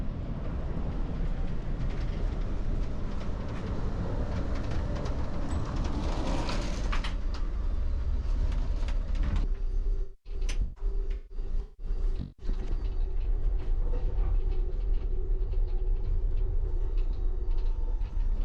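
A steady, low rumble from a moving 40-year-old Amtrak Cascades passenger train continues throughout, with a few sharp knocks and clatters partway through before the drone resumes.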